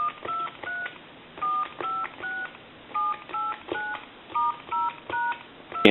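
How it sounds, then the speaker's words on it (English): An Astral Telecom Galway crystal telephone's touch-tone dialing plays as a steady series of short two-tone beeps in pairs and clusters, evenly spaced and fairly clear. "I'll go ahead and go through the numbers one more time."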